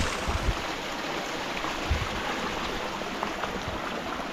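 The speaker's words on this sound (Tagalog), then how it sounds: "mas lumakas na yung tubig dito" Water flowing in a stream on a farm lot in the Philippines, a soft steady broadband rush with faint low splashes, continuous and fairly quiet with no talk.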